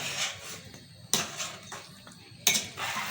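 A spoon scrapes and knocks around a cooking pot of kofta curry being stirred, with two sharp metallic clatters amid softer scraping and shuffling, close and moderately loud with no talking.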